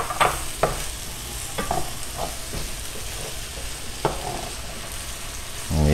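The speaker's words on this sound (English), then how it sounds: "So meanwhile, then I'll go and saute it down" Tomato and thyme sauté in a pot with a continuous sizzle, while a spoon scrapes and clicks against the pot in irregular stirring strokes, close and moderately loud.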